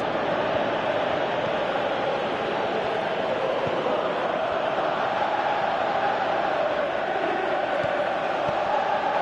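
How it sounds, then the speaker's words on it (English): A stadium crowd in the football game PES 2018 keeps up a broad, steady roar urging a player to shoot, a dense wash of many voices heard from a distance with no clear commentary over it. "Crowd calling for him to shoot."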